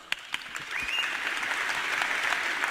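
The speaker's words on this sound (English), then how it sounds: "Give her a round of applause." Audience applause at a live motivational speaking event, a dense continuous wash of clapping from a sizeable crowd that starts with a few sharp claps and swells to a steady roar, with a faint voice briefly audible.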